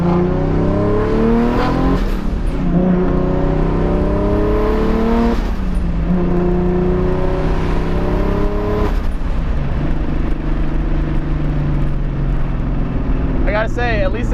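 Modified Nissan with a swapped-in 2JZ engine revving under load, a loud, steady drone that rises and falls in repeated surges, with a person talking over it.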